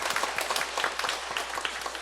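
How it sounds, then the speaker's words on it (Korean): Congregation clapping at a Sunday church service, a brief, moderate round of applause from many hands, scattered claps blending into a soft crowd patter. "박수 한번 주십시오."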